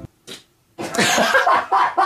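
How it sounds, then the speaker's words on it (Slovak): A short raspy fart is followed by a longer, louder sputtering burst mixed with laughter, all close and lively. "To jsi si fakt prdal!"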